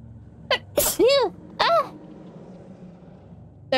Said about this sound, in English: I told you guys I was going to be sneezing a lot.